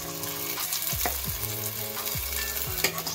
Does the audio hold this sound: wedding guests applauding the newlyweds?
no